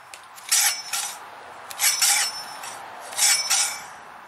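A defective FS10 air-conditioning compressor clutch rubs in three repeated scraping bursts, each a pair of rasping passes, close and fairly loud over a low steady background.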